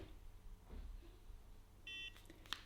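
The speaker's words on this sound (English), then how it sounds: "Then you wait for the beep." A NuFACE facial toning device gives a short, thin electronic beep, faint and close, set against a low background hum in a quiet room, followed by a few soft taps.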